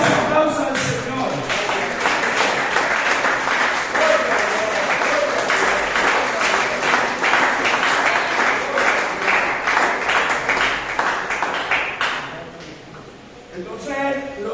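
A church congregation applauding together, dense sustained clapping filling the room for most of the stretch, fading briefly near the end before swelling again.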